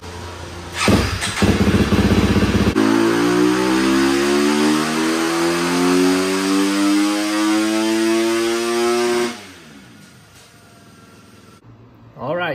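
A motorcycle fitted with a Yoshimura RS12 exhaust revs hard on a dyno, its loud engine note sweeping steadily upward in a long pull lasting several seconds, then dropping sharply to a low idle before a final burst.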